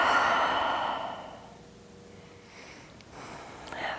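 A long, deep exhale during yoga breathing, loud and close at first, then trailing off into quiet room tone, with a softer breath returning near the end.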